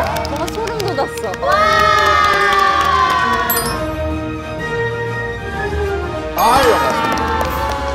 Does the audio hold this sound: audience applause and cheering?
yes